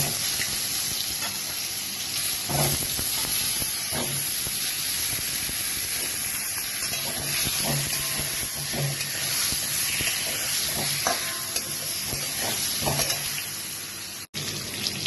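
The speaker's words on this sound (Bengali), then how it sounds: "আলুগুলো লাল লাল করে প্রায় ভাজা হয়ে গেছে" Potatoes fry in a little oil in a home kitchen, giving a loud continuous hiss and sizzle with scattered spatters and a brief stirring knock, no voices.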